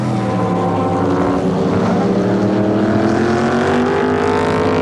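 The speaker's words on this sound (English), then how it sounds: "Car sounds fantastic." A sports sedan racing engine at Sandown in 1988 roars steadily and loudly, its pitch rising slowly as it passes close by.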